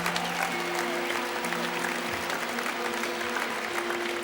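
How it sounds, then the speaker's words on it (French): Audience applause at an outdoor Christian gathering in Bern, Switzerland, a dense continuous clapping crowd with steady tones running beneath it, sustained throughout at moderate loudness. "Nous voulons applaudir Danina."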